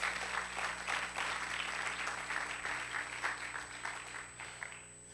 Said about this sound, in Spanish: Denle un aplauso al Señor si lo puede hacer.